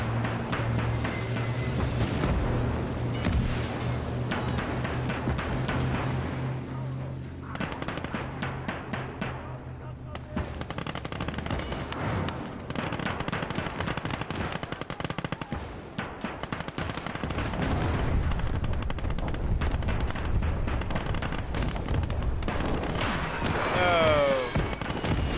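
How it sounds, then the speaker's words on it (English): Sustained battlefield fire in a war video game, with dense bursts of rapid gunfire and heavy booming impacts continuing throughout, and a voice speaking at points under the din. "The Black Sea Fleet light cruiser Vodashilov is nearby. They are ready to provide us fire support."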